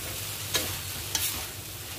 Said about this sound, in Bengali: পটলটা দিয়ে আরও 1 মিনিট ভেজে নেব